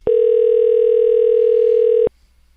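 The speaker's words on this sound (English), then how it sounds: "He's giving her a call with me on the line so I can hear everything that happens." Telephone dial tone during a phone call, one loud steady electronic hum lasting about two seconds that cuts off abruptly into near silence.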